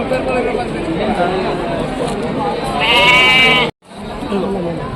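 A goat bleats loudly over a busy crowd of chattering voices at a village livestock market, the cry rising briefly before cutting off.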